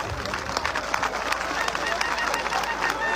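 An audience applauds for President Bola Tinubu, dense, steady clapping with crowd voices and babble underneath, close and sustained throughout.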